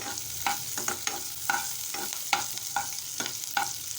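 Onion, four garlic cloves and curry leaves frying in a pan, a spatula scraping in a quick regular rhythm of strokes over a soft continuous sizzle, near and clear.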